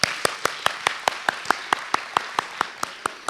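Slow, steady claps at a county government gathering, evenly spaced sharp hits about four per second over a light background of audience applause, with no talk.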